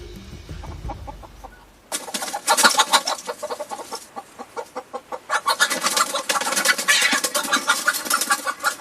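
A chicken clucks in a wintry rural setting, a near, fairly loud run of repeated short calls that starts abruptly and carries on steadily to the end.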